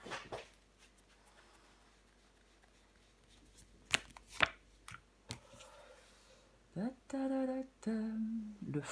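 Tarot cards are handled and flipped over with scattered soft slaps and sharp snapping clicks, nearby, followed by a few brief tonal squeaks near the end.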